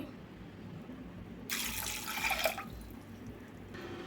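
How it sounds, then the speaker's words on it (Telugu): Two cups of water are poured into a cooking pot of chickpea masala. One splashing gush lasts just over a second against a quiet background, then stops. "ఇప్పుడు టూ కప్స్ అయితే వాటర్ అయితే పోసుకోవాలి"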